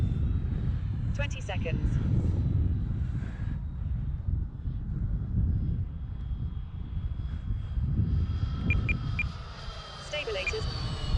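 A Freewing F-14 EDF RC jet flies at half throttle, its ducted fan whooshing and whining steadily at a moderate distance, swelling and fading as it passes, with wind buffeting and someone talking over it.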